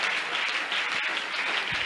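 Church congregation clapping together in steady, dense applause throughout, moderately loud and sustained without any voices.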